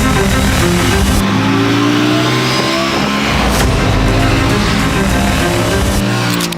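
KTM 390 Duke naked sport motorcycles revving hard, a loud, continuous engine drone with rising and falling pitch sweeps as the throttle is worked, close and sustained throughout with no talk.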